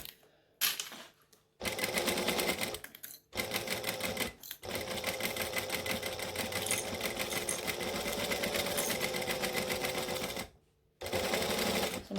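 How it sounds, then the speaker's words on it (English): A sewing machine basting down fabric gathers with an eighth-inch seam for a book binding, running in several fast, steady bursts separated by short silent pauses. "I'm just basting 1/8 of an inch because I don't want to see these stitches in my binding"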